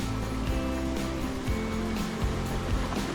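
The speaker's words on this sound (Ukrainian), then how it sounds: "І такий невеликий водоспад на території відпочинкового комплексу ОПК." A small waterfall at a recreation complex in the Carpathian mountains near a trout pond pours in a steady, moderately loud rush, with some low rumbling bumps mixed into the continuous splashing.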